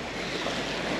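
A sailboat sails under wind alone with engines off across the Grand Bahama Bank in about 12 knots of wind, a steady rush of water and wind noise filling the short stretch with no voices.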